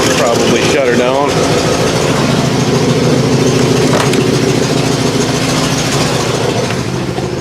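A 1963 Oldsmobile engine idling close by, a loud steady low rumble that runs throughout, with a brief clattering knock near the start and someone speaking over it.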